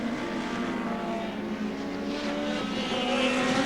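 Dick Johnson's touring race car runs down towards a right-hand corner at Mallala in a 1989 ATCC round, its engine a loud continuous roar holding steady and rising slightly near the end.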